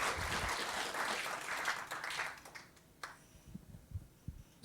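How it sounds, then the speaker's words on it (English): An audience at a speaker series applauds the hosts, a faint, distant patter of clapping that fades away partway through, followed by scattered soft knocks and quiet room noise. "Please give them a round of applause,"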